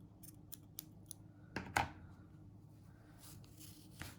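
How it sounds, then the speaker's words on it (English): Scissors snip crochet yarn close by, a few soft snips followed by two louder cuts around the middle of a quiet stretch, with no talk. "now I'm going to cut my yarn"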